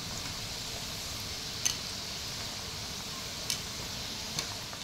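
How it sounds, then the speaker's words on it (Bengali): Semolina sweets frying in a pan, a steady soft sizzle of hot oil running throughout, with a few faint clinks on top. "বাকি মিষ্টিগুলো ঠিক একইভাবেই ভেজে নিচ্ছি।"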